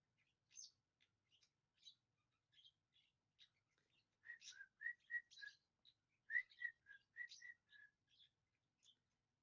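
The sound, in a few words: pet bird whistling and chattering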